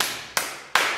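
Three sharp claps ring out in an even rhythm, close and crisp, each fading quickly.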